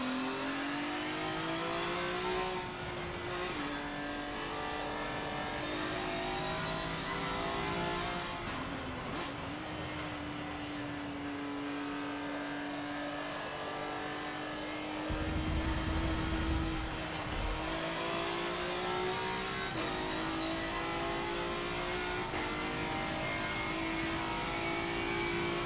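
Race cars in Forza Motorsport 7 roar and accelerate continuously, engines rising and shifting through gears with a heavy rumble and occasional tire noise, loud and sustained with no voices.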